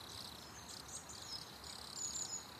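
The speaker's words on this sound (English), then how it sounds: "we still get crickets" A crickets-chirping sound effect: a steady, high, faint insect trill that runs unbroken throughout with no voices.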